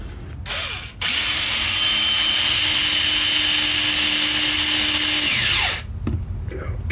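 A power drill whirs steadily for about five seconds at high speed while installing a wireless home alarm system, loud and close, then winds down, with handling noise before and after.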